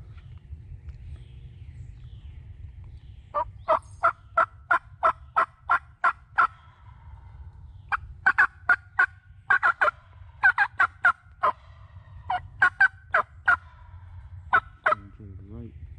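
A wild turkey gobbler gobbles repeatedly in quick rattling bursts during a spring hunt, several calls spread across the stretch over a low steady rumble, moderately distant and with no voices.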